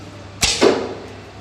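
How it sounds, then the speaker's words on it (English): Arrow loosed Turkish style from a bow at an archery range, one sharp close snap of release followed quickly by a short thud, then quiet. "Let's shoot them Turkish style"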